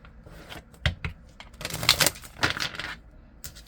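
A deck of tarot cards is shuffled in a few quick riffling bursts and taps, close and fairly crisp, with short pauses between them.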